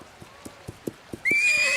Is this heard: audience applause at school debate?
no